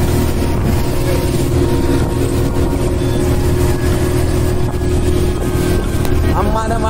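A high-speed motorboat races across the water of Mattupetty Dam in Idukki, Kerala, its engine roaring loud and constant beside hull and water rush, with faint voices underneath.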